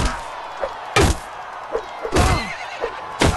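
A horse in the medieval combat video game Mount and Blade Warband gives loud, close neighs in repeated bursts. Heavy thuds and clattering sounds of battle fall between them.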